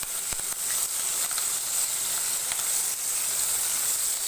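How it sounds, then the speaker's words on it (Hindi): Finely chopped green chilies frying in a pan over low heat, giving a steady, close hiss with a few faint stirring clicks and no voices. "1 मिनट के लिए फ्राई करेंगे।"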